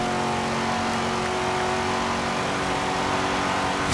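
A Chevrolet Corvette in Forza Horizon 3 drives flat out on a race, its engine holding a loud, steady, droning rev close up for the whole stretch with no talk over it.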